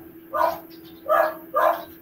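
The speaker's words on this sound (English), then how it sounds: "The dogs are barking." Dogs bark three times in a quick, evenly spaced series, fairly close and clear against a low steady background hum.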